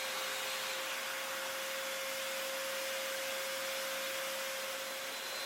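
A domino joiner plunges mortises into wooden legs, giving a steady, loud motor whine with a constant airy rush throughout and no pauses.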